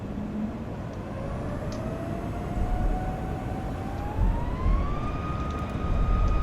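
Airliner engines in a flight simulator spooling up toward takeoff thrust, a dense roar with a thin whine rising steadily in pitch over several seconds, loud and continuous.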